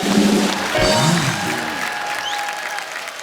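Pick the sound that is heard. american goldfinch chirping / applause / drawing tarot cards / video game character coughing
applause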